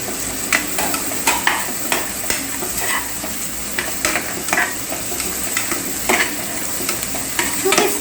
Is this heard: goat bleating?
no